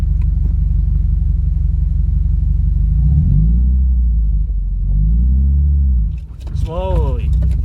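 Subaru WRX engine with a manual gearbox, idling low and steady, then dipping and bogging as the clutch is let out in first, rising again before a stumble near the end, with voices talking inside the car.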